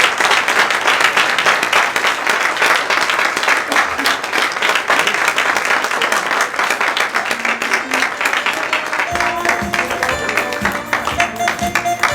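Sustained, dense applause from a gala audience at a Chabad 10th anniversary celebration, loud and steady throughout, before music begins near the end.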